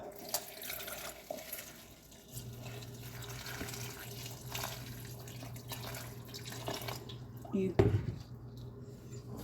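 Tap water runs into a container in a home kitchen to mix a henna hair paste, a steady close stream lasting several seconds with a brief clatter near the end.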